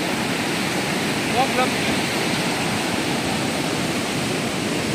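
Water rushes through a dangerous rocky gorge whose stones have been carved by the flow, producing a loud, continuous roar that holds steady throughout, with a brief faint vocal sound near the start.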